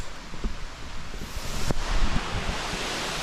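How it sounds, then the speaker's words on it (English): Steady rushing water roar from a waterfall in Siquijor, heard from a forest trail at some distance as a constant broadband wash with no talk over it. "I hear the waterfall."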